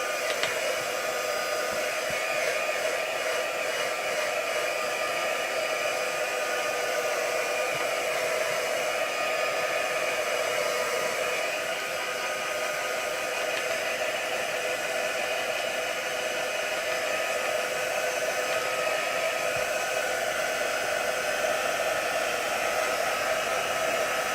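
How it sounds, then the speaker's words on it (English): A hair dryer blows steadily and loudly for the whole stretch, a constant broadband whoosh with a motor whine and no pauses or talking. "let's get the dryer. So sorry about the noise."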